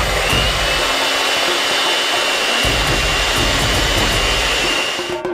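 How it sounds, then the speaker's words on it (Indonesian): An electric hand mixer whips egg whites at high speed, making a loud, constant whirring drone close to the ear that holds steady for several seconds. Its pitch drops briefly partway through before it winds down at the end. "kita memutuskan untuk menggunakan mixer seperti ini"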